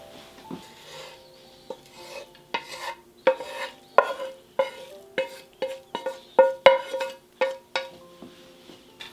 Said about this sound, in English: I'm just going to give this a bit of a stir to incorporate our meat and veggies